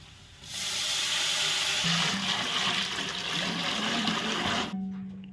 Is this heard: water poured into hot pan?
yes